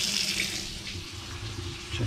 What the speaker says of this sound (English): You can turn your water on while it's running.